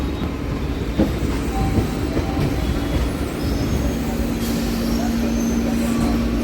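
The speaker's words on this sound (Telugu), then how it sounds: "పైనుంచి వెళ్ళిపోతుంది ట్రైన్" A metro train passes overhead at Secunderabad metro station, a steady loud rumble with a sustained tonal hum throughout, and a voice briefly audible beneath it.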